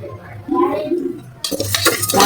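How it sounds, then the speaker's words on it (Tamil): Moong dal roasting in a pan, with dry rattling and scraping as a utensil stirs it, close and brief, starting softer and then turning brighter. "அதையும் நல்லா வறுத்துக்கலாம்."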